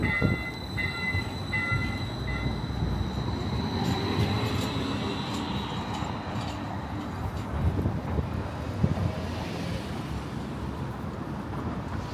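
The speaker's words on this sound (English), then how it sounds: "I love riding the streetcar to get around Oklahoma City." An Oklahoma City streetcar in motion heard from on board, a steady broad rumble of wheels on rail with faint high squeals and tones, continuous and close, no speech.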